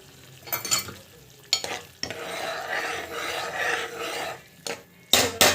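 Okra kara kuzhambu, a tangy tamarind curry, cooking in a pan: a steady close scraping and sizzling stir runs through the middle, with sharper rasping strokes at the start and end.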